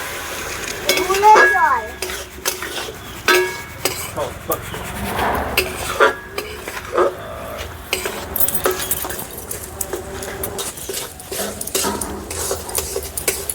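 Jaggery filling for patishapta pitha stirred in a pan with a little water added, giving close scraping and clinking of a spoon against the pan with faint sizzling, steady throughout with a voice talking over it.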